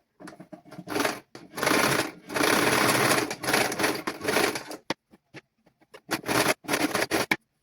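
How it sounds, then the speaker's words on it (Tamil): A sewing machine stitches a children's garment in bursts of rapid mechanical whirring, several runs of a second or more separated by pauses and short taps, loud and close with no talking. "பாருங்கள், தைச்சு போட்டு பார்க்கலாம்."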